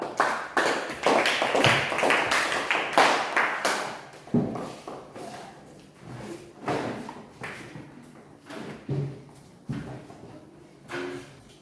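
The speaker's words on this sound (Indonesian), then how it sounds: "berikan aplaus untuk kelompok 2" Classroom applause for a student discussion group, a dense burst of many hands clapping that swells and then thins out into scattered, uneven claps and taps over several seconds, with no talking.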